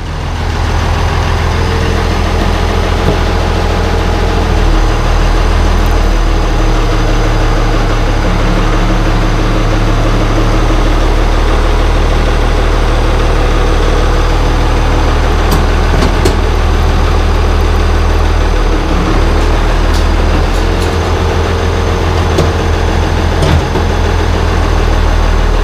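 An IH 1086 tractor engine runs loud and close while the machine is maneuvered out, a steady deep diesel rumble with a faint shift in load midway and occasional small clanks.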